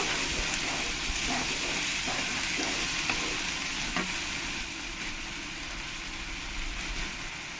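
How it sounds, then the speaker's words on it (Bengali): Spices and tomato paste sizzle and fry in a pan for a banana kofta curry, with a steady close crackle and occasional scraping stirs, and no talk. "টমেটো পেস্টটা দিয়েও আমি কিছুক্ষণ কষিয়ে নেব"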